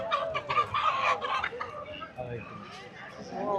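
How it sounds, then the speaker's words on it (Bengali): Native chickens cluck close by in a noisy market while people talk over them. "এবার দেশীয় মুরগি কত করে কেজি"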